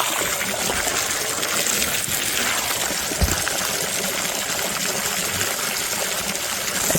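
Water from a hose gushes steadily into a bucket, a continuous broadband rush with a brief thump partway through, close and fairly loud with no speech.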